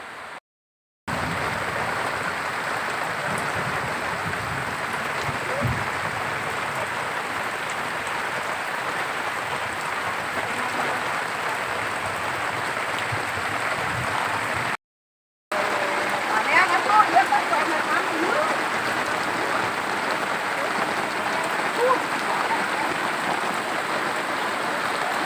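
Steady rain pours onto a village house roof, a dense, even hiss that runs without letup apart from one brief cut, close and fairly loud, with no voices over it.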